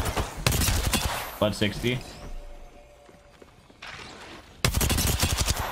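Automatic gunfire in the Apex Legends battle royale game: rapid bursts at the start and end around a quieter stretch of footsteps and small effects, with a player talking over the action.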